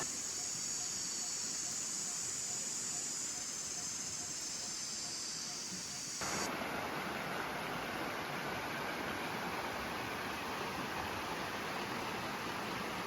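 A forest stream flows beside its bank in a steady, broadband rushing wash that runs unbroken throughout, with no talk over it.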